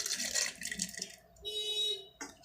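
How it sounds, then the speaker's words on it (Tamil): Water is poured from a tap or vessel into a mixer-grinder jar holding soaked urad dal, a faint splashing trickle that swells and fades in short bursts in a quiet kitchen. "நான் மிக்சி ஜாரில் இதை போட்டுக்கிறேன் கொஞ்சம் தண்ணி ஊற்றி அரைச்சிக்கலாம்"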